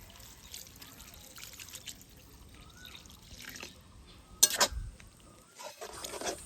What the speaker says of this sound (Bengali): এই সময় দিয়ে দিব হচ্ছে জল